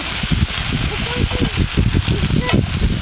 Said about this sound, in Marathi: लसूण घालूया